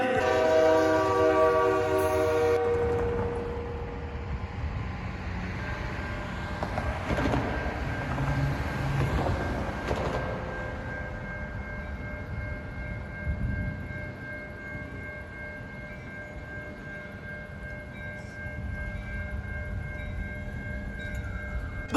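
A train approaching a railroad crossing gives a steady rolling rumble, with sustained horn blasts ringing over it, loud and close, and no voices.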